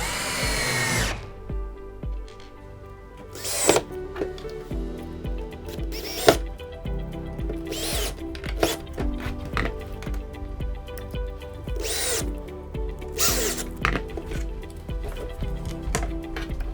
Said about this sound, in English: take your screwdriver or your drill, and drill them down